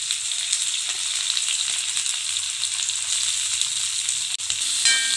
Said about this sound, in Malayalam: ഇത്രയും ഇട്ടിട്ട് നന്നായിട്ട് വഴറ്റിയെടുക്കുക.